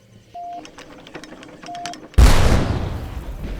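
A cannon booms once in the video game Darkest of Days, a loud sudden blast with a long rumbling decay, preceded by soft clicking and mechanical ticks.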